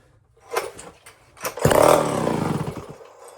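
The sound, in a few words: Homelite chainsaw being choked and started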